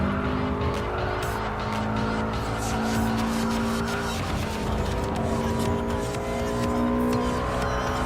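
Race cars in Gran Turismo Sport, including a Subaru Impreza 22B-STi, give a steady dense engine roar with tire squeal throughout, continuous and loud with no pauses.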